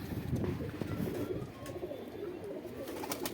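High flyer pigeons kept by Gullu Ustad in Saharanpur coo steadily in a close, dense chorus of low, overlapping burbling calls that runs without a break.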